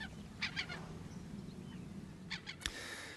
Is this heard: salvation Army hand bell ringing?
no